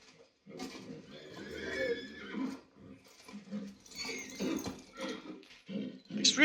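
A horse in the video game Kingdom Come Deliverance II lets out several loud, strained neighs and whinnies in bursts, close by, with faint hoof and game sounds mixed in.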